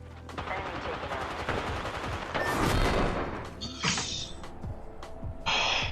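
Sustained automatic gunfire from an Apex Legends fight, close and dense, is broken by louder bursts and short bright pings, with brief game voice sounds underneath.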